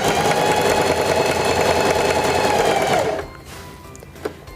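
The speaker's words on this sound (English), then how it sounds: "Place the fabric underneath the presser foot, lower the presser foot, and begin sewing." A Singer 4411 heavy-duty sewing machine runs a long, wide zigzag stitch in a steady, loud mechanical chatter for about three seconds. It then stops abruptly and a faint click follows.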